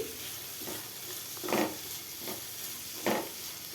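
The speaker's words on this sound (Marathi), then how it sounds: "आता याच्यामध्ये आपण ही जी डाळ भिजवून घेतलेली आहे तर ती डाळ घालायची आणि ही आता डाळ पूर्ण याच्यामध्ये मिक्स करून घ्यायची" Soaked lentils stirred into sizzling vegetables in a pan, a steady fry with two louder scraping stirs of a spoon against the metal, near and without speech.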